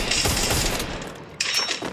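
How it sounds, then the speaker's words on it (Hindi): Two loud bursts of video game gunfire, the second after a short pause, each with a rumbling, crackling tail. "देखो, सिर्फ मैं एक गोली चलाऊंगा।"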